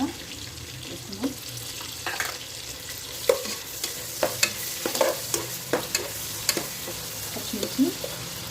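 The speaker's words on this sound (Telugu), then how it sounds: "ఉల్లిపాయలు వేసుకోవాలి." Sliced onions frying in a pan with a little ginger-garlic paste for chicken pulao, giving a steady soft sizzle broken by repeated scraping and clacking as a spoon stirs them.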